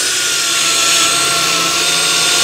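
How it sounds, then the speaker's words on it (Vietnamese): A Workfix cordless battery drill bores into solid wood, giving a loud, steady, close-up grinding whir that holds without break from start to finish, with no voices. "Trời đất ơi, nó khoan dễ dàng luôn."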